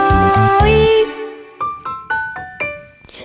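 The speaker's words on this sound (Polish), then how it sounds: "dzwoneczkiem zadzwoni" Small bells in a Polish Christmas song ring out in a loud, sustained shimmer, then give way to a run of separate, bright, decaying chimes struck one after another, with no voices.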